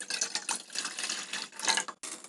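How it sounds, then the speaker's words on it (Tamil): One tumbler of water pours into a cooking pot for seaweed jelly, a close, soft splashing trickle that runs almost continuously with a brief break near the end. "1 டம்ளர் தண்ணியை 1 டம்ளர் ஊற்றிக்கலாம்"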